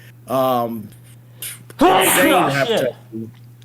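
A person sneezes loudly once, breaking up talk, with a brief voice before and after and a low steady hum underneath.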